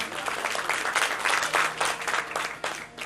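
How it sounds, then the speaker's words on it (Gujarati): Sustained audience applause at a Gujarati folk dayro event, steady dense clapping for about three seconds with faint voices mixed in. "હા તાળીઓ પાડો, તાળી દિલથી પાડો."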